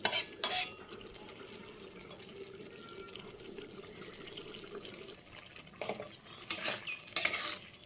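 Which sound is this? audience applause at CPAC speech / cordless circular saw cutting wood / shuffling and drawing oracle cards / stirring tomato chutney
stirring tomato chutney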